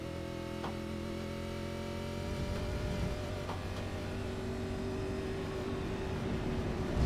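Simulated race car engine in a sim racing game, with a steady droning engine tone and harmonics running continuously at moderate loudness, no talk.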